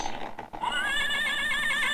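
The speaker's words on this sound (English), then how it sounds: "This is the horse." A horse gives one loud, close whinny that rises and then trembles in a long, wavering neigh, heard alone after a brief soft rustle.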